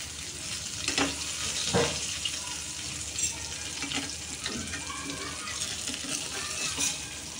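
Mushrooms fry in a pan with only a little oil, giving a steady soft sizzle with a few brief clinks and stirring noises at close range; no one speaks.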